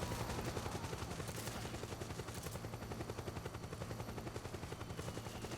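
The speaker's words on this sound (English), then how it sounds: "this chopper is so loud" A helicopter in Metal Gear Solid 4: Guns of the Patriots roars with a dense, fast rotor chop, while rapid bursts of gunfire crackle throughout at a steady, loud level with no pauses.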